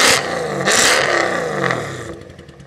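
Mercedes C63 AMG engine with its exhaust valves open revs hard in two loud blips close by, then fades down with a crackling tail.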